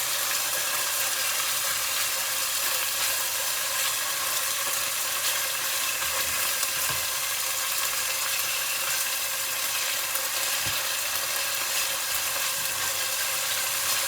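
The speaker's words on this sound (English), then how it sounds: "Now to this, I'm adding in our chicken. We need to fry this" Chicken pieces fry in a pan for Anglo-Indian pish pash with a steady, dense sizzle and crackle that holds evenly for about fourteen seconds. No voices are heard over it.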